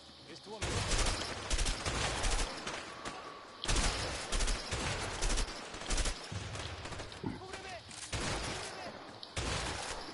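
Repeated bursts of gunfire in the A Way Out video game, loud cracks and rattling volleys echoing across about ten seconds, with people talking underneath.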